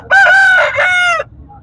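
A Punjab Jagiri cross Aseel rooster at a rooster market in Quetta lets out one loud, close crow of just over a second, ending abruptly, with faint market murmur beneath.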